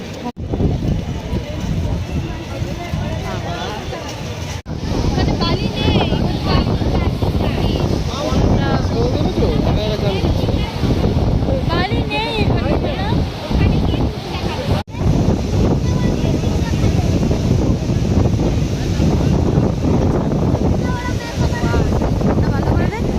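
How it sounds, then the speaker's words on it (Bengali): Strong, continuous beach wind at Dheusagar near Digha roaring into the microphone with the wash of surf behind it, loud and unbroken apart from two brief cuts. "বিচ মানে এরকম প্রচুর পরিমাণে হাওয়া, মানে উড়েই চলে যাবো এমন হাওয়া"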